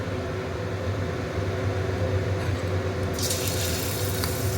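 Paneer pieces fry in hot white oil over a low gas flame, a steady close sizzle with a sharper burst of hissing toward the end.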